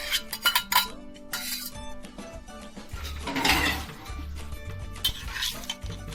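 A spoon stirs sauced pasta in a metal pot, giving repeated scraping clinks and clatters in an uneven rhythm, close and fairly loud, with no talking.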